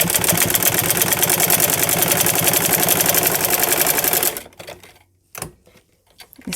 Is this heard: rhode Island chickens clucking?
no